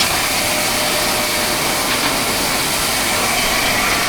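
A potato cellar's elevator conveyor runs steadily, a loud, continuous broadband whir and rattle with no pauses and no voices.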